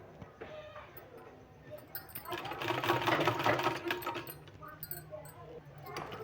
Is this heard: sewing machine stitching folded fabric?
yes